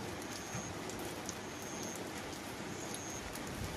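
Steady rain falls over a garden in a rural Indonesian village, a dense continuous hiss of drops with faint birds calling now and then in the background.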